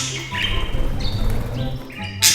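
Pet budgerigars kept together in one cage chirp and chatter in quick, overlapping calls, fairly close and busy, with a brighter burst near the end.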